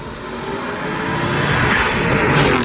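A Ford Explorer ST with a built EcoBoost motor and a Borla Atak exhaust roars loudly past, a broad, harsh engine and exhaust blast that swells in intensity over a few seconds.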